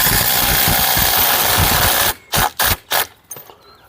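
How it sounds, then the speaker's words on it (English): An impact driver drives coach bolts into a wooden fence post through 6mm pilot holes, first in a long, loud hammering run, then in three short, sharp bursts with brief silences between. "For ease, I like to use an impact driver."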